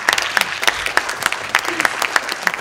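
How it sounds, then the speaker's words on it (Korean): Applause from the audience at a talk concert on the film 'The Battle of Fengwudong', thanking two professors: dense, steady clapping from a full crowd, loud and continuous throughout. "두 교수님께 감사의 박수 한번 전해드릴까요?"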